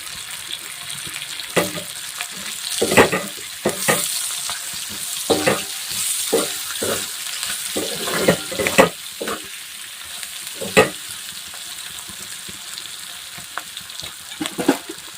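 Green chilies cooking in a pan for lemon-chili pickle, with coriander added, giving a soft continuous sizzle broken by intermittent stirring scrapes and clatters, close and alone without talk.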